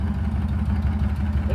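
Old pickup truck engine idling with an exhaust leak, a close, steady low rumble with a regular pulsing beat.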